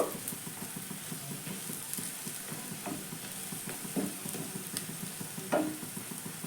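Oil sizzles steadily around frying Indian pennywort leaf fritters, with occasional clinks and scrapes of a utensil moving them in the pan; no voices.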